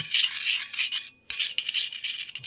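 Pork liver being stirred with oyster sauce in a pan, a quick series of bright metal utensil scrapes and clinks against the pan, close and fairly loud, with one short pause midway.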